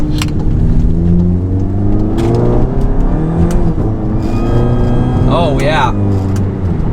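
A VW Mk7 GTI engine pulls hard under turbo boost with a GFB DV+ fitted, its rising revving tone sweeping upward over several seconds, ending in a whistling whoosh as the valve vents; someone speaks briefly over it.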